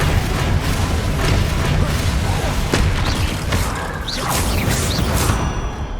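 A Flipendo spell impact in the Hogwarts Legacy video game: a dense, loud burst of booming, whooshing magical energy that fills about six seconds with crackling bursts and rising swishes.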